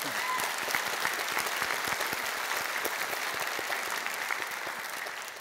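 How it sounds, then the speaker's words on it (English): Audience applause at an innovation panel event, a steady, dense clapping from a large crowd, loud and continuous throughout without a break. "You can applaud here."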